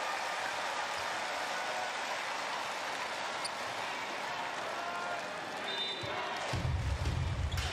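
A basketball crowd applauds loudly as a player enters the game, a dense, sustained roar of clapping and cheering that fills the whole stretch and swells slightly toward the end.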